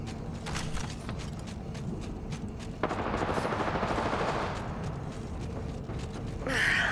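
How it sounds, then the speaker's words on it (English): Rapid gunfire from the video game Apex Legends rattles in bursts at moderate loudness, with mechanical clicks and a sharper burst near the end. "Taking fire."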